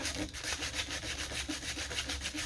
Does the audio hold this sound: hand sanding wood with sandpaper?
yes